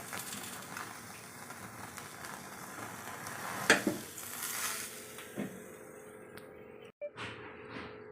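Onions frying in oil in a pan for a chicken tikka curry gravy, a steady low sizzle with a few soft stirring scrapes and clinks, fairly quiet and without talk.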